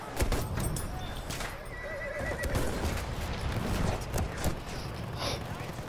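Horse neighs and whinnies with hoof clip-clop amid the noisy chaos of a Battlefield video game battle, fairly close and sustained throughout.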